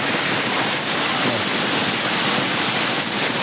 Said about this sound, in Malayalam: ഇവിടെ നിന്നാണ് വെള്ളം ഒഴുകി വരുന്നത്